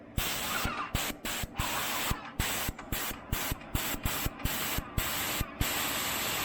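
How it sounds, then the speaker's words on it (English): An airless paint sprayer tip hisses loudly in repeated high-pressure bursts while being cleaned, cut by short regular pauses, about a dozen pulses in a steady rhythm. "So you need to spray out your tip real good."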